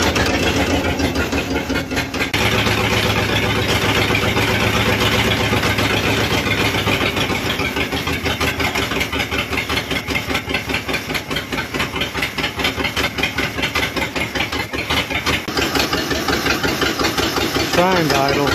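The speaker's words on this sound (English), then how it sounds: "Adjusting the idle down using the idle air bypass screw." A 1955 Cadillac Coupe Deville V8 idles after its idle was turned down at the air bypass screw, giving a steady, close, loud mechanical running sound with a faint hiss and an even pulse throughout.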